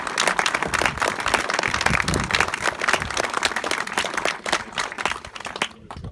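An audience inside a chapel applauds workers who laid the new paving, many hands clapping in a dense, uneven burst that thins out and fades near the end.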